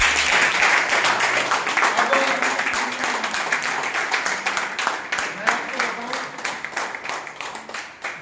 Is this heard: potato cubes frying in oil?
no